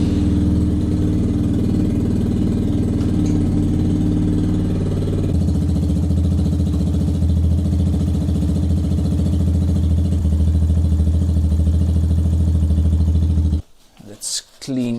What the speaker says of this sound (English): You can also leave the bike running for this.